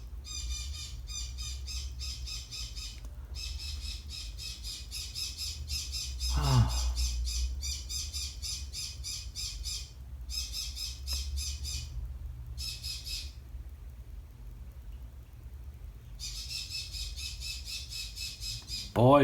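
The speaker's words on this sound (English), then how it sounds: "Boy, oh boy, birds." Pet birds squawk almost nonstop nearby, loud harsh rapid bursts with a few short gaps, while low voices murmur briefly underneath.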